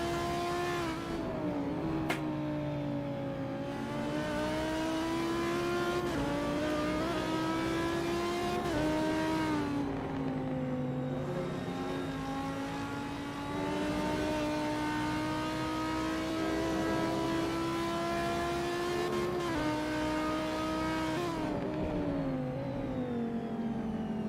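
GT3 race cars lapping Kyalami in Assetto Corsa, engines droning steadily and rising in pitch through the gears, with occasional shifts and a loud continuous roar throughout.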